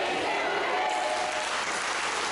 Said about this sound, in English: Nick Willis leading the crowd here in a pretty stupid chant to mock Pretty Powerful